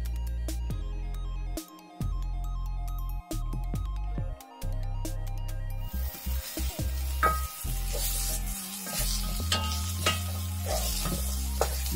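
Browned onions sizzle in hot oil in a pan as a chili, ginger and garlic paste goes in for paneer butter masala. The frying hiss is steady and close, with a spoon scraping and clattering through it. No one speaks.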